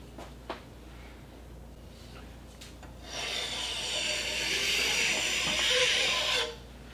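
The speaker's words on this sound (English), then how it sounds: "Need to file it down." A hand file rasps across metal while a precision measuring tool is worked down, a few faint strokes followed by a sustained, hissing stroke of about three seconds, close and with no talking.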